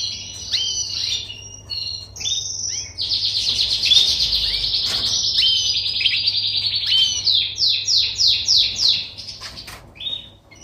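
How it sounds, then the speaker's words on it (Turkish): Canaries in a breeding aviary give a loud, busy stream of high chirps, trills and rapid repeated notes, several birds close by with a low steady hum underneath. "Ve şöyle bunlar da üst segment kuşlarımız. Hagi Parisyen kuşları"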